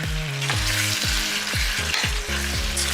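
Coriander leaves, mint leaves and halved green chillies sizzle loudly in a hot pan for a Hyderabadi dish, with steady crackling frying noise and repeated scraping stirs throughout.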